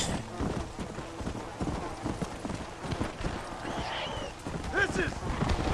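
Hooves clip-clop in a steady rhythmic gait as a rider travels on the horse Famine in a video game, with a neigh near the end and a voice talking over the hoofbeats.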